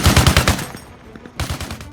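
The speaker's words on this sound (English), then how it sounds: "firing off a few rounds in 50 cal is wild and deafening like the real thing" A .50 cal machine gun firing in Arma Reforger, a rapid burst of heavy, booming rounds, a short pause with ringing decay, then another fast burst, loud and close.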